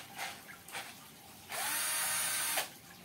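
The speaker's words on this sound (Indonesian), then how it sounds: "Dengan mata bor beton yang 6 mm ini, mungkin untuk ngebor beton ini masih mampu ya." A power drill fitted with a 6 mm masonry bit bores into concrete, starting with two short bursts before running one sustained, whining cut of about a second, close and fairly faint.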